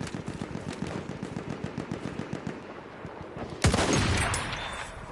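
Rapid automatic gunfire in Battlefield 1, a steady stream of close, sharp shots, then one heavier loud blast that rings out and slowly decays.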